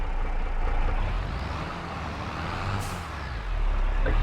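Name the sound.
truck engine and air brake in Farming Simulator 22 video game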